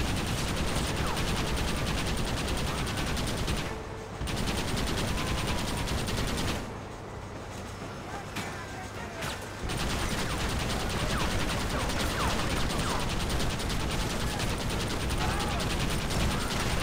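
A Gatling gun in the Red Dead Redemption video game fires in long, dense rattling bursts, loud and close, with brief pauses between volleys.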